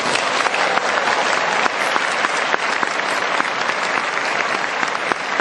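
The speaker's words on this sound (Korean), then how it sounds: "한번 큰 박수 부탁드립니다" Large audience at a business leadership event gives a sustained round of loud, dense applause, a thick continuous roar of clapping with no break and little speech.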